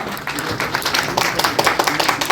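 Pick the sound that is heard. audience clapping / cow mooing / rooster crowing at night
audience clapping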